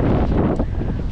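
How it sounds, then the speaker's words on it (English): Strong wind buffeting the microphone at a warm beach, a dense low rumble that roars steadily throughout the short moment. "it's nice and windy"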